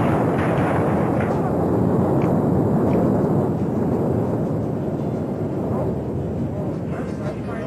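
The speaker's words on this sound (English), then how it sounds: "the explosion you just saw served as only a primer to what followed some 5 minutes later" A marshmallow plant warehouse fire, filmed from a distant mountaintop, gives off a sustained low roar and rumble from the explosion. The deep, dense wash stays loud and steady for the whole stretch.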